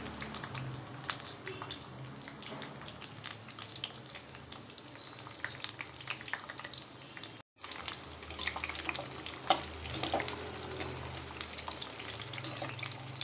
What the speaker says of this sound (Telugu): ఈ నూనెలో బాగా మంచిగా డీప్ ఫ్రై అయ్యేదాకా వేగనివ్వాలి.